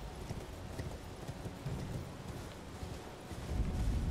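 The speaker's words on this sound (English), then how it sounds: "It's stormy on this hill." Stormy weather on a hill in the video game Elden Ring, with rain pouring as a dense, continuous wash of noise and low thundery rumbles swelling toward the end.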